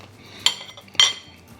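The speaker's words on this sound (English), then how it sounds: "let's go ahead and cut into this real quick" Metal cutlery cuts into baked beef enchiladas topped with black olives, cooked on a Ninja Foodi Pro XL grill and griddle, giving two crisp clinks of fork or knife against the dish, close and clear.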